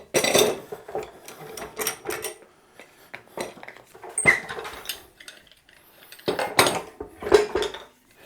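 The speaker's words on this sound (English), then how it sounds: "So I'll just start to get the clamps off it and see how we've done" Metal clamps clink and clatter as they are loosened and lifted off a freshly glued guitar body, a Johnny Ramone replica build, in sharp irregular bursts with quiet gaps between.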